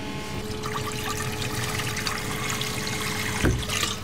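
A little water trickles and pours steadily in a kitchen while cooking, a soft continuous flow with a brief louder splash near the end, no voices.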